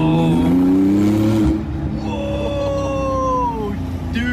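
A Porsche 911 Turbo accelerates hard with its exhaust in sport mode, a loud close engine note rising in pitch then dropping and climbing again, with whooshing turbo hiss over the top.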